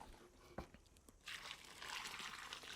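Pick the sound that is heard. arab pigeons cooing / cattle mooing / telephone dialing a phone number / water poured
water poured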